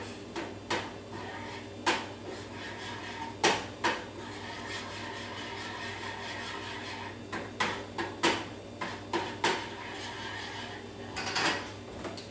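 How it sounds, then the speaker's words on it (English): A spoon stirs pesto into almond milk, making intermittent sharp clinks and taps against the bowl, some in quick clusters, over a low steady background hum. No one speaks. "I'm just going to add a couple of tablespoons to the milk and just stir that"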